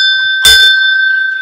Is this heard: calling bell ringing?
yes